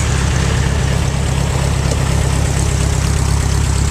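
An old Case VAC tractor engine idles loudly and steadily, a deep rhythmic chugging with a faint rattle, close by and unbroken.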